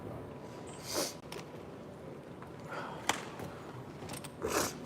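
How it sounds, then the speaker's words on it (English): A few short nasal sniffs, spaced apart and fairly quiet, with no talking. "I'm sorry, I'm sniffling."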